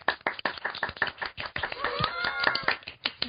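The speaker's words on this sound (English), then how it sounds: "Why don't you just give a real clap?" A small group claps at a live podcast recording in quick, uneven bursts, sharp and close, with a brief vocal whoop rising over the claps midway.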